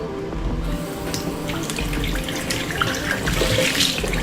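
Water runs steadily from a tap while a wrap-around ponytail is rinsed, a close, constant splashing gush with faint irregular spatters over it and no talking.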